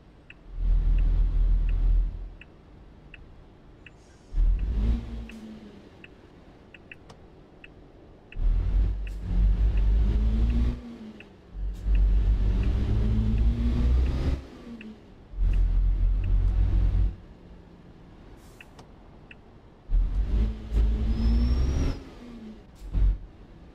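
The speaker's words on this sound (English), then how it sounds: "You can actually hear the turbo whistle." Ford Cargo truck engine in Euro Truck Simulator 2 revs in repeated bursts with a rising whine of turbo whistle over a low diesel rumble, alternating with quieter idle stretches.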